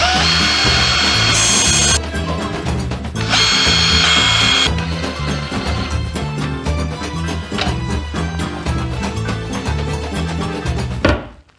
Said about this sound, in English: So I need to rebate some hinges into this board.